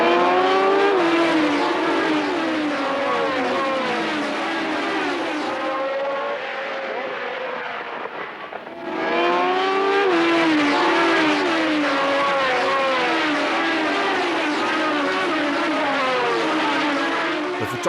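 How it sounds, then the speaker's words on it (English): Formula 1 race cars at the start of a 1974 Grand Prix, a loud pack of engines screaming and shifting through gears together, their note briefly dropping away mid-way before the roar returns at full strength. "As the flag dropped, Halewood and Depailler made great starts"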